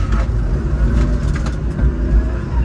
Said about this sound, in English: I can hear a lot more of the motor come through from the front.